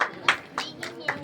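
A handful of scattered handclaps from the audience at a Ramlila committee prize-distribution ceremony, five sharp, separate claps spaced irregularly over about a second, fairly close.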